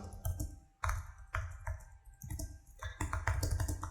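Fast typing on a computer keyboard during an online typing speed test, bursts of rapid close clicks and taps separated by short pauses, with no talk.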